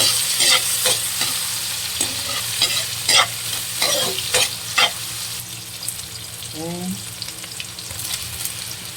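Garlic, ginger and onion sauté in oil in a pan for octopus adobo in coconut milk: a constant sizzle broken by repeated scraping stir strokes at an uneven rhythm, close and fairly loud, with no speech.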